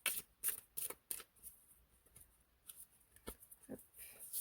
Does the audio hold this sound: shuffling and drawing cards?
yes